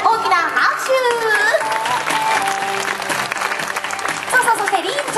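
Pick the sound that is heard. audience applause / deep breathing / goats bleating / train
audience applause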